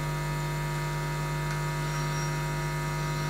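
A steady electrical hum with a low buzzing tone sits under faint crackling static from an experimental AM radio receiver, continuous and moderately quiet throughout.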